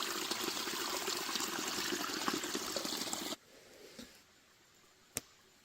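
Water pours steadily into a Mylar bag for about three seconds at a jungle camp, a close, bright, splashing rush that stops abruptly, followed by faint rustles and a single sharp tap.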